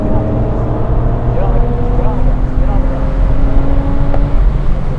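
Race car engine on a track accelerating under throttle, a loud continuous drone heard from inside the car with steady rumble and a rising tone, while a person talks over it.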